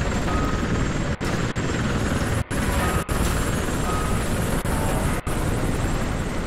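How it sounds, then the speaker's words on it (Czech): Helicopter from the video game F.E.A.R. 2, a steady broadband rotor and engine roar filling the whole clip with a few brief cuts, loud and continuous with no talk. "Vrtulník."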